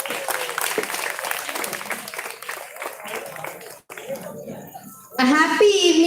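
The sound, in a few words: audience applause at a school event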